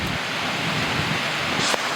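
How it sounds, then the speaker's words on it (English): A thunderstorm brings a low thunder rumble under steady heavy rain, ending in a short sharp crackle near the close. "Thunderstorm."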